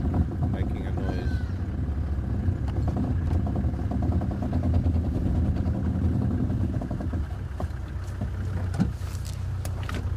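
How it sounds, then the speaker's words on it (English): Loose plastic mud guards rattle on the wheel of a safari vehicle driving on an early-morning game drive, a steady clattering mixed into continuous engine and road rumble, with voices talking over it. "Plastic mud guards loose on my wheel, making a noise."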